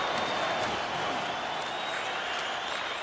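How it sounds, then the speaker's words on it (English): Crowd roar in an NHL 23 hockey game, Chicago Blackhawks at Vegas Golden Knights in the Vegas arena: a dense, steady wash of cheering and applause that holds throughout at moderate loudness, with no one talking. "I can see why the crowd is cheering"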